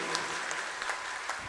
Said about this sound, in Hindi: जोरदार तालियों से अभिनंदन किया जाए भाई